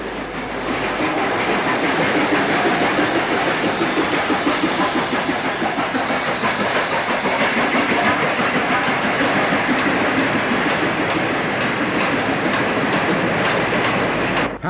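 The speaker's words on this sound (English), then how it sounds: "92056 passes on a freight." Steam-era locomotive 92056 hauls a freight train past on Lancashire lines in the mid-1960s, a loud, steady rumble of engine and rolling wagons with clattering wheels sustained for the whole stretch, close by and without any voices.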